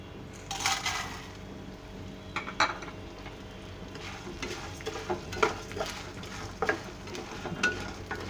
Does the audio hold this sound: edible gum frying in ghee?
yes